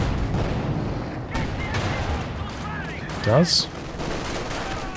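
Battle gunfire from the video game Company of Heroes 2, with an anti-tank gun firing on a Panzer IV: a continuous rattle of shots with a louder burst and a whistling blast near the end, while someone speaks briefly.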